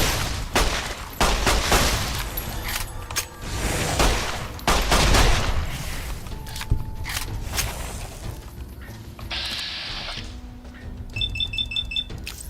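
Rapid gunfire crackles through a firefight in Fallout: New Vegas Old World Blues, loud bursts of shots in the first half, then thinner pops with electronic beeping tones near the end, no talk.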